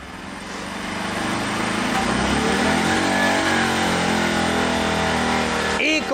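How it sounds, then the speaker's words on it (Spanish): A Bajaj Pulsar 200 NS motorcycle engine, already warm, revs up to about 5000 RPM and holds there, a loud, steady, close buzzing drone that rises over the first second and then stays constant. "Vamos a acelerar la motocicleta a 5000 RPM."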